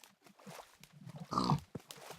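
A pig in the video game Minecraft grunts a few short times in close succession, with one louder, sustained snort near the middle, set against quiet background.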